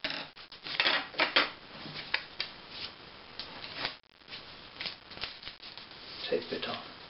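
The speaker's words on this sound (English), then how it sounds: "So let's just cut out John Inman's head." Scissors snip through paper, cutting out a paper head for a craft figure, in a run of crisp, close cuts with a short pause midway. A voice can be heard in the background.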